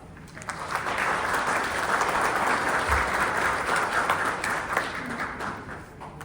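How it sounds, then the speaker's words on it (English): An audience at a Canadian Embassy conference for battery stakeholders applauds warmly to welcome the ambassador, a steady, dense wash of clapping that holds for several seconds before easing off slightly. "Please give her a warm round of applause."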